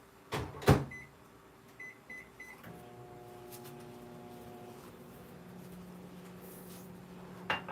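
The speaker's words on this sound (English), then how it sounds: "Pop that in the microwave really quick." A kitchen microwave oven melting green candy melts: a door clunk, a few keypad beeps, then a steady low hum as it runs, ending with another clunk, no talk.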